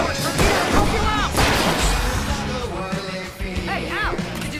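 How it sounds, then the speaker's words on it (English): Fireworks exploding in the Alan Wake video game, a run of loud booming and crackling bursts that fill the scene, with whistling rising tones near the end and shouting voices mixed in. "I can set off more of the fireworks from here and help you out!"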